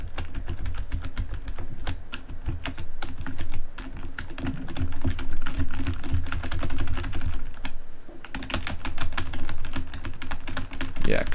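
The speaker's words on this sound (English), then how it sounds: "think you can just spam press the keys though" Rapid, dense clacking of computer keyboard keys being spammed during a game jam live stream, continuous and close for several seconds, with brief pauses and a voice speaking faintly under it.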